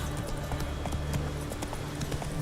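Rhythmic hoof clip-clops of Roach the horse trotting in The Witcher 3: Wild Hunt, steady and fairly close over a low ambient game backdrop.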